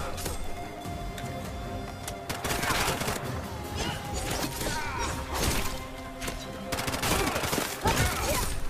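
Gunfire from the video game Bright Memory: Infinite rips out in dense automatic bursts and sharp crashing impacts, loud and close, continuing in waves throughout without any voices.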